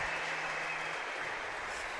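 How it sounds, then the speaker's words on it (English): Crowd applause at a youth bouldering competition final, heard as a dense, steady wash of clapping that holds at an even level for two seconds with no voices over it. "A round of applause for the live music"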